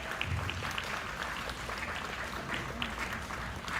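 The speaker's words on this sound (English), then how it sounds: "Let's put our hands together to give her a great round of applause." Moderate applause at a batch silver jubilee reunion, a sustained scattering of clapping heard from the middle of the room with some faint voices beneath.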